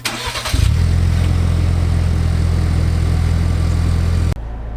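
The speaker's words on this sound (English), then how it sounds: "So let's get a cold start." A lifted Ford Ranger pickup with a 3-inch MBRP catback exhaust cold-starts, cranking and catching, then settles into a loud, rumbling idle with a deep exhaust note before abruptly cutting off.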